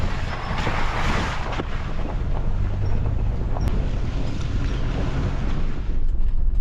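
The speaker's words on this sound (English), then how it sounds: "This is some windows down point of view while it's cold and windy." Cold wind buffets through the open windows of a black Jeep while it drives along trails, a loud, constant rushing roar close to the microphone.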